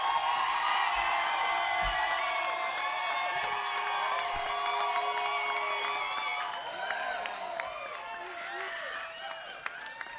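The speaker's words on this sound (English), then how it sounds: "By your applause, we will pick the winner." A live audience at a realtor competition event cheers, whoops and applauds loudly to pick a winner, with dense crowd noise throughout that eases slightly toward the end.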